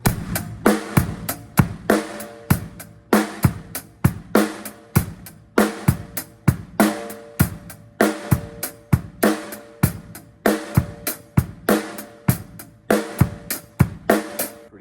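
A fast drum kit groove with sharp snare hits, thumping kick and busy cymbal ticks, looping steadily without any talking.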